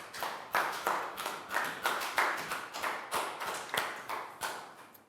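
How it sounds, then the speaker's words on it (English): A class of young pupils claps for a classmate in a primary school maths lesson, giving a rhythmic round of applause in loose repeated bursts, fairly close and clear with no talking over it. "High five, big round of applause for Pak Bung."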